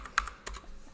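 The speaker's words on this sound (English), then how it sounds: "Just hitting the keyboard's gonna do it." A computer keyboard is struck a few times, with two or three sharp, light clicks standing out over a quiet room hum.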